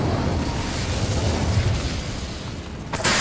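Incendio fire spell cast in Hogwarts Legacy, a loud, sustained roaring whoosh of flame, with a sharp burst near the end.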